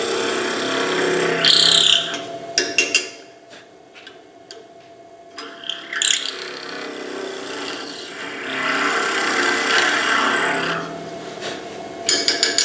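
Steady scraping and rasping of a spindle gouge cutting spinning hardwood on a lathe, with a continuous whir and a few ticks and taps between passes.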